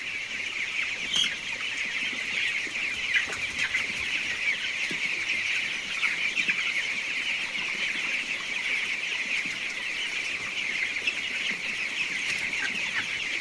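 Farm chickens on a small poultry farm cluck and chatter in a steady, busy flock after their evening feed, with overlapping calls at moderate distance and no talking.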